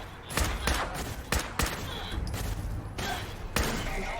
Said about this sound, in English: we're getting laser fire from, oh look, some of our Mechanist friends